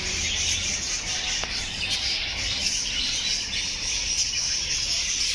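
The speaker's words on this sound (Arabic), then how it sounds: "هنا طيور حب" Lovebirds at a pet market along a street of pet-animal sellers chirp in a dense, continuous, high-pitched twittering chorus that fills the whole stretch at moderate loudness, with no voices.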